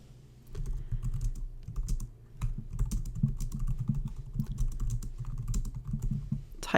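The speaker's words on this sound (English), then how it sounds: "Type something in there" Someone types on a computer keyboard in quick, close, uneven bursts of key clicks, pausing briefly near the middle before continuing steadily.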